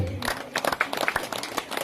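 A crowd at a Balinese temple anniversary ceremony applauds for Bali dua, a dense burst of overlapping claps at moderate loudness throughout.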